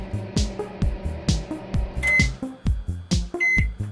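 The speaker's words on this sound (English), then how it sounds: "Let me go microwave some stupid pouches." Microwave oven in the video game Always Sometimes Monsters, heard as a rapid series of short clunks and beeps with a couple of brighter tones, close and fairly loud.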